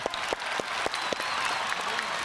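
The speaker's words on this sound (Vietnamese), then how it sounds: "vỗ tay thật lớn cho 3 đội nào" A studio audience on a Vietnamese family game show claps loudly for three competing teams, producing a steady rush of applause with a few sharp, distinct claps standing out near the front.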